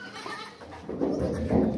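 A dairy goat bleats nearby at a goat market, a couple of short nasal cries rising over low background murmur.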